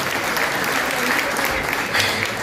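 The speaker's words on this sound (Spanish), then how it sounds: "quiero que por favor le brinde un fuerte aplauso a ella y a todo su equipo" Steady applause from a concert audience at an intimate live show in Estación Barranco, dense continuous clapping filling the space at even loudness with no voices over it.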